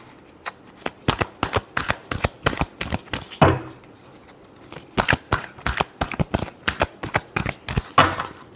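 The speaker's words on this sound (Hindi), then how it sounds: "Last shuffle." Tarot cards are shuffled in quick, crisp bursts of riffling, a steady run of close, dry snaps with a brief pause in the middle, with no talking.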